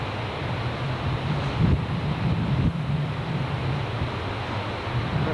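Niagara Falls roars as a steady, dense wash of falling water heard from a distance, loud and unbroken, mixed with wind buffeting the microphone and with no talking.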